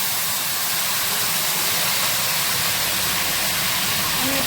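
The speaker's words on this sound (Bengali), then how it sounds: "তো এই যে আমি মাংসটাকে প্রথমে কড়াইতে দিয়ে দিলাম ভাজার" Chicken pieces marinated in salt, oil and turmeric fry in a wok, giving a steady, loud broadband hiss and crackle that runs unbroken throughout with no voices.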